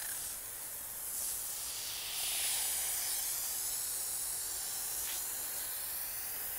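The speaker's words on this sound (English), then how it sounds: "So here we go with the solo foamer." Foam sprayer hissing as it applies cleaning foam to matte car paint, a steady airy spray that swells slightly midway, heard alone and fairly close.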